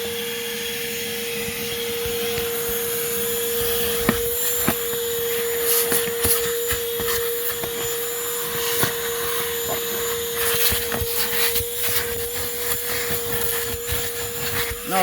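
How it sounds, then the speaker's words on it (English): A Ridgid dual 18-volt wet/dry vacuum, model HD0918, runs steadily with a constant motor whine and airflow roar, broken by a few light knocks and rubbing sounds; no one speaks. "Gonna leave it running, not even gonna turn it off until I need to move the actual vacuum."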